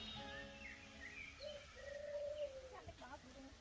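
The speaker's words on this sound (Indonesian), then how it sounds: "Ini kandang merpati putih." White pigeons in a dovecote coo softly beneath background chatter and a few faint chirps, the low calls rising and falling at a moderate distance.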